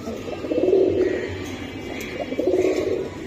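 Racing Giribaz pigeons coo nearby in soft, throaty, repeated calls, with two bursts of cooing separated by a short pause.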